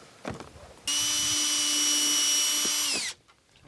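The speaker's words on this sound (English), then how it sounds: "So I drilled the holes." A power drill boring holes through a cargo trailer wall, a loud, steady whine lasting about two seconds after a few handling knocks, then stopping abruptly.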